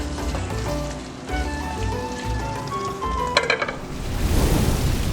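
A pot of food simmering on the stove just after being stirred, with a soft bubbling sizzle and faint clinks of a utensil against the pot, building into a steady hiss toward the end.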